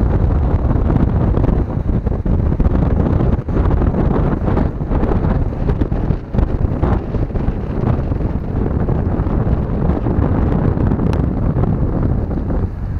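Up on the Maspalomas sand dunes, wind roars across the microphone in a loud, unbroken rumble, gusting and thumping unevenly for several seconds with no one talking.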